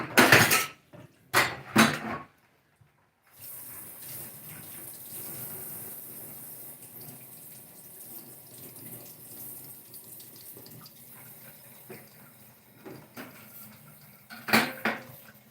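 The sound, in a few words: hot water running from tap into sink while washing dishes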